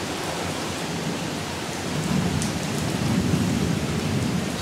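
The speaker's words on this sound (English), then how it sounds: "Across the street it's raining heavily." Heavy rain pours down across a street next to a garden in August, a steady dense hiss from a short distance that thickens partway through.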